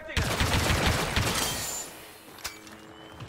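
Rapid blaster fire in the Star Wars Battlefront II video game, a dense burst of repeated shots in the first two seconds, then quieter with one sharp later shot and lingering tones.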